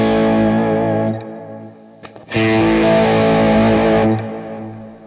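Electric guitar played through a leveled Klon overdrive model on a Quad Cortex, with a sustained overdriven chord that fades, a short gap, then another loud strummed chord ringing out, close and without talk.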